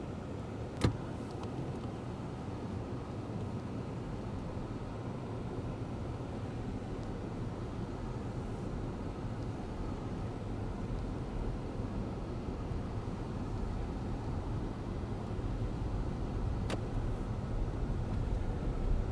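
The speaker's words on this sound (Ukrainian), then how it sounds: "настав час проїхатись та перевірити ходові характеристики автомобіля" A steady low rumble of a 2017 Hyundai Elantra driving along, constant road and engine noise from inside the cabin, with a couple of faint clicks.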